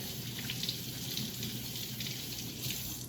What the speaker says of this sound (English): I already washed that tomato, but I didn't see that sticker, so I'm going to wash that again.